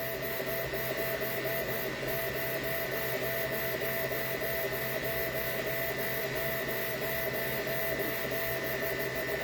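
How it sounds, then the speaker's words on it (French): A 3D printer running at real speed, a steady electronic whine of stepper motors with a constant hum, close and continuous throughout without talk. "Il n'y a pas de trucage, c'est la vitesse réelle de l'imprimante."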